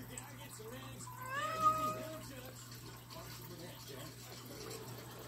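A cat meows once or twice in a rising, wavering call near a kitchen where water runs from a tap, faint low hum underneath, with a person speaking nearby.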